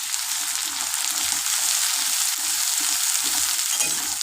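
Coriander powder gets stirred in hot oil in a pan for a Bengali potato and egg chorchori, making a loud, dense, unbroken hiss of frying with faint rhythmic scraping underneath.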